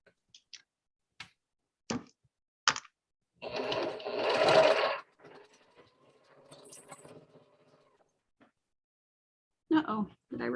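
A sewing machine runs a short, loud stretch of rapid stitching, preceded and followed by scattered clicks and taps. A person talks nearby around the stitching.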